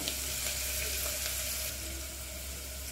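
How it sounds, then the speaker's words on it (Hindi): Onions frying with half a spoon of salt in a pan for chicken soup, a soft, steady sizzle and crackle heard fairly close and alone without talk. "आधा चम्मच नमक, थोड़ा प्याज पकने देते हैं।"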